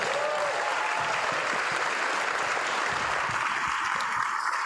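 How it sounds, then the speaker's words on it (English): At a charity gala dinner, a large audience gives dense, continuous applause that stays at an even loudness from start to finish, with faint voices mixed in near the beginning. "Can you give us a round of applause?"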